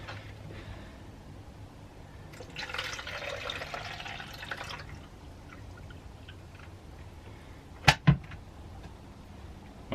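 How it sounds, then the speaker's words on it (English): Tap water pours into an Arctic Air portable evaporative cooler in an RV, a steady rushing splash for a couple of seconds amid quiet room noise, followed later by two sharp plastic clicks. "Right now we're just using tap water,"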